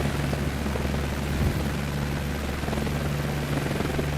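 Steady propeller-aircraft engine drone from a plane being flown in a video game, a continuous loud hum with a stable low tone holding level throughout and no voices over it.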